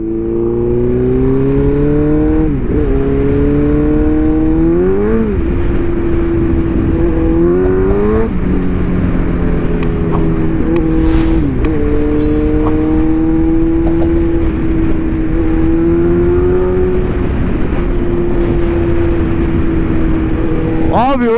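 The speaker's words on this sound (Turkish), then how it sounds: "Egzoz çok kötü." A motorcycle with a loud exhaust revs hard again and again, each throttle blip swelling over a constant close, droning engine note that never drops out.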